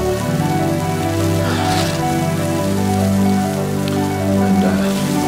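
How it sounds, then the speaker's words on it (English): Steady soft pattering of snow against tent fabric, continuous and close, with a low hum underneath and no voices, in windy Mongolian country. "You can probably hear that noise against the tent. That is snow."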